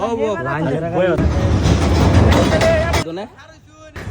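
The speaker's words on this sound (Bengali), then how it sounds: "ওই যে ট্রেন আয় পড়ছে ট্রেন পিছনে" A voice speaks, then a train roars past loudly on a railway bridge for about two seconds with a heavy rumble, cutting off abruptly as speech resumes.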